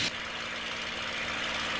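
A TF-51 Mustang aircraft engine runs steadily during a supercharger check, a loud, dense, continuous drone with a low rumbling pulse close by.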